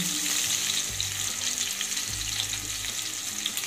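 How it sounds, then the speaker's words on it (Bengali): Four halved potatoes fry in hot oil with a pinch of salt for a chicken and potato curry, giving a loud, steady, dense sizzle with soft stirring movements throughout. "এবার আলুগুলোকে উল্টে পাল্টে লাল করে ভেজে নিতে হবে।"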